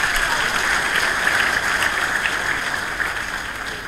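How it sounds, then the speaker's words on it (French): A university audience in Kinshasa applauds loudly, a thick, continuous roar of clapping that holds steady and eases slightly toward the end. "Je pense qu'il faut vraiment l'applaudir très fort."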